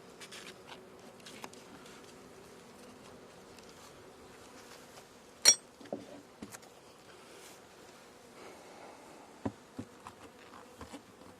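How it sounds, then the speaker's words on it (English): Honeybees buzz faintly around a hive box during a swarm inspection, soft scattered buzzing with occasional nearby clicks and knocks. "Oh, there's more bees on this one."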